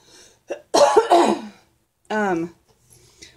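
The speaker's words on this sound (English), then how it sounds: "I may cough." A person recovering from a cold, with a cough drop in their mouth, gives a couple of harsh, close coughs followed by a short voiced throat-clearing sound in a quiet room.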